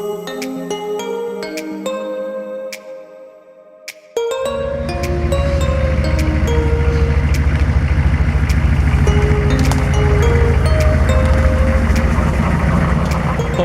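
A 6.5 diesel truck engine running, heard as a loud, steady low rumble with a rattly edge that starts about four seconds in, after a quieter stretch of tonal sounds.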